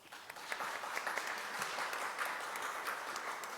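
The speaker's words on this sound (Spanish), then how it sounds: "les pido por favor un aplauso." Faint, distant applause from an audience at a book presentation, a soft continuous patter of many hands clapping heard alone throughout.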